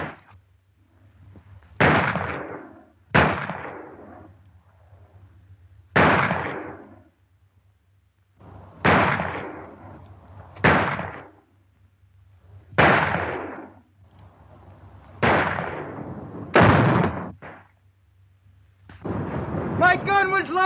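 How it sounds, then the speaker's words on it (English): Gunshots ring out in a western movie shootout, about nine sharp reports in irregular pairs and singles, each echoing and decaying before the next. A voice speaks at the end. "My gun was loaded that time, Hoppy!"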